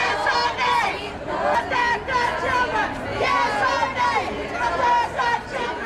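A growing crowd of protesters gathers outside a courthouse, a dense babble of many voices with shouts and chatter rising and falling close by.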